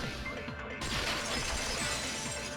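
A vase shatters in the video game Danganronpa 2, heard as a loud, dense crash and a spray of breaking fragments over continuous sound.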